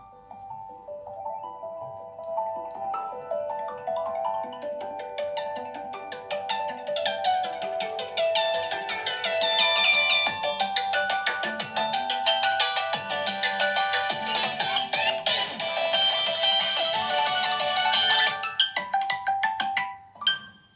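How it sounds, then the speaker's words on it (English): A melodic Google Pixel 10 Pro XL ringtone, The Next Adventure, plays on its own, bright chiming notes building in loudness and layering up before stopping abruptly. "we got one new ringtone added to the list"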